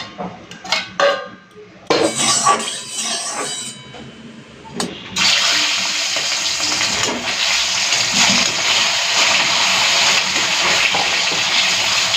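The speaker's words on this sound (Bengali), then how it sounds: "চলুন মাছটা ভেজে ফেলি" Catla fish rubbed with salt and turmeric drops into hot oil in a pan. A few clatters come first, then a loud, sustained hissing fry sets in and continues.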